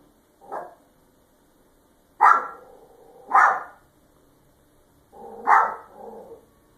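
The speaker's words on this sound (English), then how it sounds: "A dog is sitting in the living room, doing nothing out of the ordinary and just playing with a ball." A dog barks in a living room while playing with a ball, giving four separate sharp barks spaced over several seconds with near silence in between, close and fairly loud.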